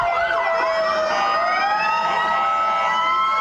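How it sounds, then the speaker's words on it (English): Multiple fire engine sirens wail at once, loud and close, their rising and falling tones overlapping continuously. "It is going to be kind of hard to hear with all the sirens."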